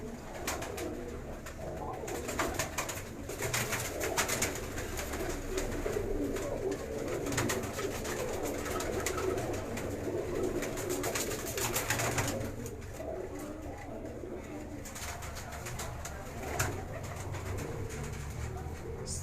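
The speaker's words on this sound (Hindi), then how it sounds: "ये हमारे मानती कबूतर हैं।" Manti pigeons cooing softly in a coop, with repeated low, throaty coos over a faint, continuous background hum and no clear talking.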